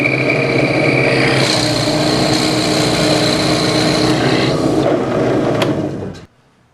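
A drill press bores out cherry wood plugs with a loud, steady whir and a high grinding edge for several seconds, then the motor winds down and cuts off into silence.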